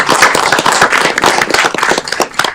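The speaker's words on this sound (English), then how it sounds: "Let's give them a round of applause." People at a city council meeting give a round of applause, loud close hand claps forming a busy, uneven patter that carries on steadily.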